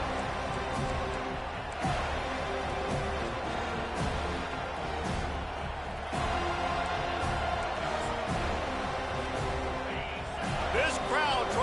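Football stadium crowd at a college game between FSU and Georgia Tech, a steady loud roar filling the whole stretch with swells of cheering, heard under a play-by-play announcer's voice.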